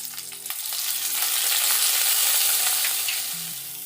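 Mustard seeds, ginger, dried chillies and curry leaves temper in hot oil for curd vada, giving a loud, steady crackling sizzle that swells and then eases, with no voices over it.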